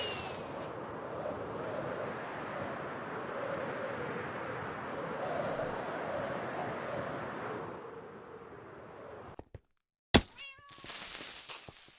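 A Minecraft cat gives a long, steady meowing purr that fades into brief silence before sharp in-game clicks and thuds.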